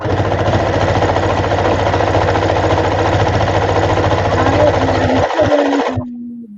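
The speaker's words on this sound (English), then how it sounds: "I'm just sewing the straps together" A sewing machine stitching bodice straps together, running in a fast, steady mechanical chatter for about five seconds, then slowing and stopping with a few clicks, close and loud.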